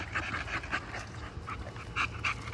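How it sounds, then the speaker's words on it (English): American bully dogs panting rapidly while playing outside in the heat, with quick rhythmic breaths and a few soft whimpers, close by over low background noise. "let y'all see the dog run around, have fun, be dogs in their natural habitat"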